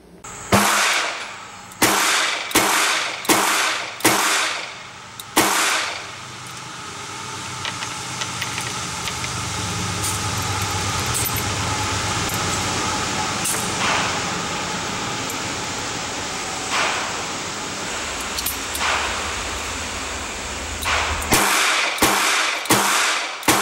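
Rapid one-handed self-defence fire from revolvers, including a stainless steel Smith & Wesson 640: a burst of about five loud, sharp shots, a long gap of humming background, then another quick string of about five close shots.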